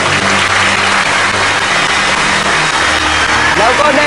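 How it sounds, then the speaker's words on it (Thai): A studio audience applauds on a Thai TV quiz show, with a dense, loud wash of clapping running the whole time while a host speaks over it. "ขอเสียงปรบมือดังๆด้วยครับ"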